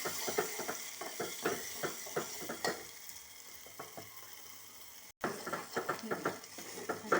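Groundnut and coconut paste sizzles in a hot pan while a spoon stirs it in quick, regular scraping strokes, close and moderately loud, with a short gap partway through.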